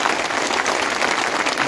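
A crowd at a political rally in Jhunjhunu breaks into loud, continuous applause, a dense wall of clapping that holds steady without a break.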